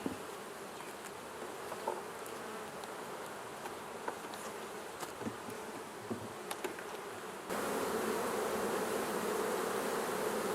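Dense, steady buzzing of many honeybees close by around an open hive with a quilt box, a continuous hum that grows louder and fuller toward the end.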